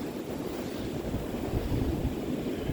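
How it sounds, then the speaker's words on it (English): Blizzard wind roars steadily outdoors, a dense, rushing blast buffeting the microphone without a break. "the wind is making the craziest noises before it comes."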